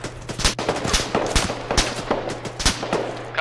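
Rapid, overlapping gunfire in the ArmA 3 military shooter, sharp close shots cracking in irregular bursts over a steady background hum, with no talk.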